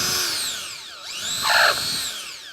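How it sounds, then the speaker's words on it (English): A power drill bores out waste wood from the handle hole of a wooden chisel handle, its motor whine rising and falling in pitch over a couple of seconds, close and clear. "So just drill out that waste wood"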